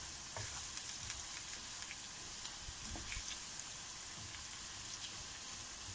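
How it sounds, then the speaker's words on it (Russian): Carrots frying in a kazan over a gas flame, a steady soft sizzle and crackle with scattered pops, close and alone with no talk. "Морковочка жарится у нас."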